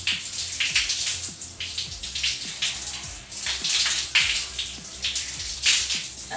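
Hot water runs steadily from a tap into a basin, a continuous splashing stream with bright spatter and a few louder surges, heard up close with no talking.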